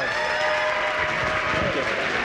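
A start-up competition audience gives a round of applause at a grand finale, a brief burst of dense clapping filling a large room, with voices mixed in beneath it.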